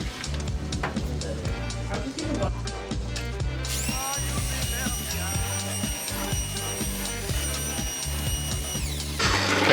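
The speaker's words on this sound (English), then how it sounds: "if you take the drill out while it's spinning, you will get filled with glaze" A power drill fitted with a mixer spins in a bucket of ceramic glaze, whirring steadily with rattling, churning knocks from the paddle, and a high motor whine that rises partway through and cuts off near the end.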